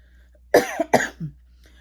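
Two sharp, close coughs in quick succession, followed by a short throaty sound, in an otherwise quiet room.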